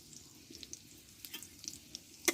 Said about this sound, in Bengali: এই তেলে 2টো শুকনো লঙ্কা দিয়ে দেবো আর দিব কয়েকটা গোটা জিরে।